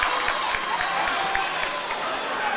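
A student section crowd at a high school boys basketball regional semifinal fills the gym with a steady, dense roar of voices, loud and continuous throughout with no single voice standing out.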